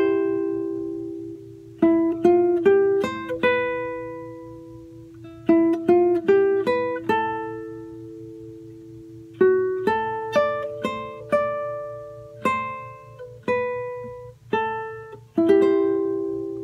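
Plucked guitar melody from a song, played alone as clear single-note phrases in bursts with short pauses, each run of picked notes ringing out over a steady low hum.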